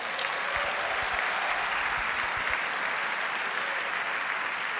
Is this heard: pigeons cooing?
no